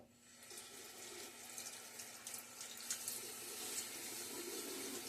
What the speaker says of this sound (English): Get my face wet again.